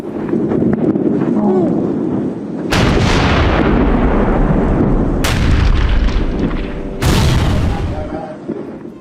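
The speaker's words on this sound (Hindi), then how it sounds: "लेबनान की राजधानी बेरूत में किस तरह से हवाई हमले को अंजाम दिया गया है, एयर स्ट्राइक को अंजाम दिया गया।" Air strike bombardment in Beirut, Lebanon: a rumbling backdrop breaks into three heavy, loud explosions spaced a few seconds apart, each with a long rolling boom and wind buffeting the microphone.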